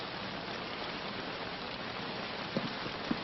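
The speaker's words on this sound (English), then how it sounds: "Missed it in the rain, huh? Man could miss anything in this." Heavy rain falling, a constant dense hiss with no break, with a couple of faint knocks near the end.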